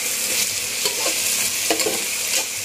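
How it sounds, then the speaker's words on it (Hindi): Chopped onions with a pinch of salt sizzle and fry in a pan over medium heat, a steady close hiss broken by a few scraping stirs, with no talking. "भूनने देंगे हम मीडियम आंच पे"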